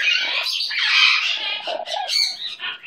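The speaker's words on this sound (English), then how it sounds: "Happy bird." A pet parrot squawks loudly and continuously at close range, with harsh shrill calls running almost unbroken before breaking into shorter chirps near the end.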